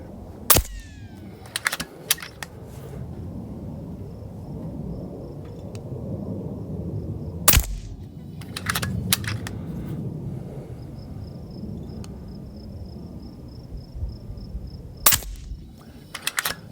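Rimfire rifles, a Panthera 700 or a Vudoo V22, fire at targets 100 yards out. Sharp, loud single cracks come in small spaced clusters with quiet stretches between the groups.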